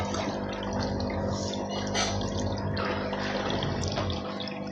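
Water from an Oscar fish tank filter pours steadily and continuously, a close, even splashing rush with no pauses or voices.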